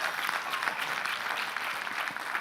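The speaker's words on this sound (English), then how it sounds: "Give her a round of applause for that." An audience at a speaking event breaks into steady applause, a dense wash of many hands clapping continuously at moderate loudness with no voices on top.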